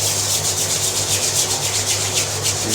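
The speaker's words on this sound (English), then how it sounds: "Rub it into your hands." Carrot hair cream rubbed between the palms, a close, steady rhythmic swishing friction repeated in quick strokes, with no voice.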